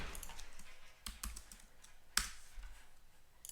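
A few scattered keystrokes on a computer keyboard, soft and fairly close, with short irregular pauses between clicks and no talking.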